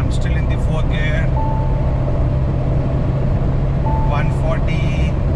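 A 2020 Mahindra Thar diesel drives hard in fourth gear, giving a loud, steady engine and road drone with wind noise inside the cabin, while a voice speaks briefly over it.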